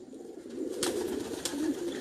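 A flock of high-flying pigeons in a loft makes a steady, soft, low cooing murmur that continues throughout with faint background noise.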